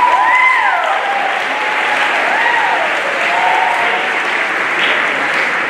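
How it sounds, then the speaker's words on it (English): Loud, continuous applause fills an awards ceremony hall for Eagle Scout recipients, a dense steady wash of clapping with a few whistles and cheers rising over it. "we should just give them a round of applause"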